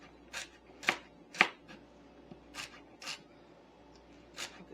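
A knife chops celery for clam chowder on a cutting board in a home kitchen, with a handful of crisp, separate cuts at an uneven pace, close and fairly quiet, and no talking.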